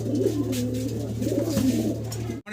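A pair of red-checker Siraj pigeons coo in a breeder's loft, a close, loud, rolling low coo repeated in soft pulses before cutting off near the end.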